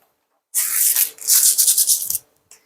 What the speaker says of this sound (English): Either that or I got a bad grinder